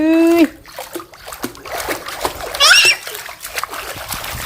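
Water splashes onto someone in several wet bursts, mixed with excited voices and high squeals nearby.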